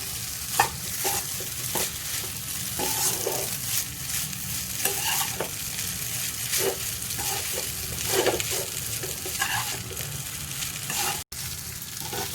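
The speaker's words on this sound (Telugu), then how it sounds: "హై ఫ్లేమ్లో ఒక 2-3 మినిట్స్ దీన్ని మనము ఫ్రై చేసుకుందామండి." Semiya vermicelli frying over a high flame crackles with a dense, steady sizzle while a spoon stirs and scrapes the pan at irregular intervals, close and continuous with no voices.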